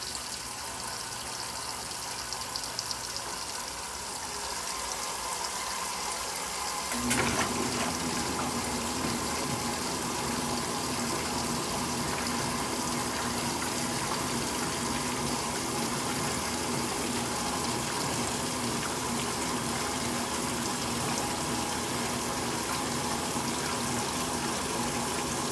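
Two washing machines fill with water before agitating, a steady rushing gush joined by a low pump-like hum about seven seconds in that continues unbroken to the end.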